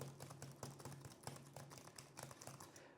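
Steady, rapid typing on a computer keyboard at a desk with a dual-monitor mount, a brisk stream of crisp clicks heard close up and alone, without talk.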